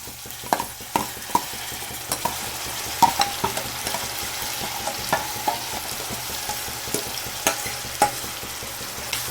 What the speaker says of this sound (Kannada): ಇದು ಹಸಿ ವಾಸನೆ ಹೋಗೋವರೆಗೂ ಹೀಗೆ ಬಾಡಿಸ್ಕೋಬೇಕಾಗತ್ತೆ.